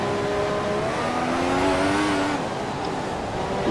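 Formula 1 car from the F1 2014 game lapping a Chinese circuit in winter testing, a steady close engine whine rising in pitch through acceleration, then dropping back after a shift, with no talk.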